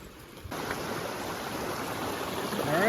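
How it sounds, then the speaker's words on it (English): A small mountain stream beside a hiking trail near Panther River flows in a steady broadband rush that grows slightly louder toward the end, heard alone without speech. "All right, now we got a new little stream going"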